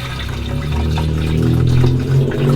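Fluid rushes out through a gravity-fed -16 line with a heavy kink in it during an LS engine swap: a loud, steady, close gushing pour that holds without a break.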